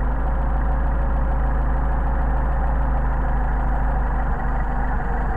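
A Mercedes 190SL engine with Solex carburetors idles close and loud, a steady low rumble with fast regular pulsing as the idle sags slightly.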